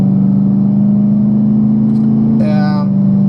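A BMW E92 M3's S65 V8 runs with a strong, steady low drone that rises briefly as the revs climb near the end, heard close and loud with a voice talking partly over it.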